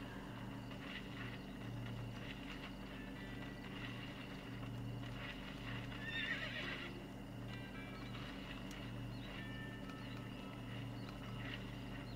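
A horse neighs in Red Dead Redemption, with its hooves clopping beneath a steady low engine-like hum that runs throughout.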